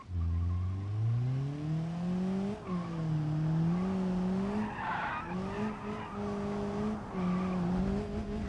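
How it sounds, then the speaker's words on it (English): A front-wheel-drive car power slides in the BeamNG.drive video game, its engine droning and rising and falling through gears while tires squeal and skid in the middle, steady and unbroken by talk. "You gotta love power sliding the front wheel drive"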